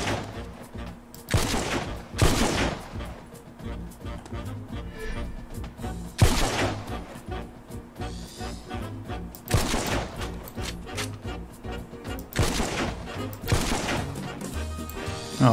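Gunfire in the video game The Mean Greens, with loud bursts of rapid shots and crashing blasts repeating in waves, nearly continuous and dense from start to finish.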